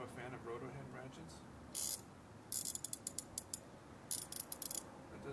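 A Ko-ken Rotohead ratchet clicking in short bursts, with one quick run followed by several rapid, close, sharp clicking sequences at low overall volume after some faint talk.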